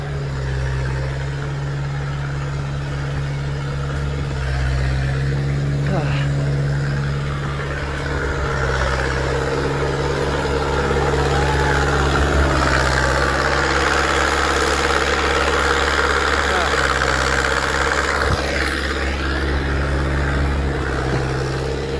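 An XR636 concrete pump runs steadily while pushing four-hour-old concrete through 500 feet of hose on a job in Prescott, Arizona, a constant low engine drone with a faint mechanical rumble, unbroken and close.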